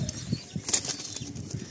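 Madrasi pigeons released from a loft, with rapid bursts of wing flapping in quick irregular beats close by, no voices.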